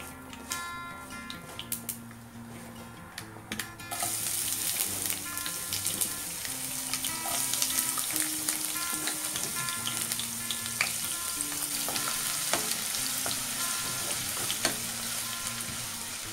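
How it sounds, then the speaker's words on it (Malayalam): Chopped ginger and garlic hit hot oil for a mango pickle. A quiet tapping gives way to a loud, steady sizzle with stirring scrapes that continues to the end, and no talk is heard. "ഇനി ഇതിലേക്ക് ഇഞ്ചിയും വെളുത്തുള്ളിയും ചേർത്ത് കൊടുക്കാം."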